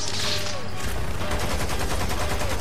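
Automatic weapon fire in the multiplayer shooter Lost Planet 2: a loud, rapid stream of evenly spaced shots that begins after a short moment of other game noise and runs without a break.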